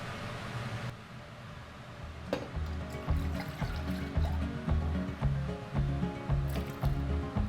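Ingredients for a single-serving soup tumble into a crockpot, giving soft wet squishing and pouring thuds with liquid sloshing, close and fairly steady, over a repeating low background beat.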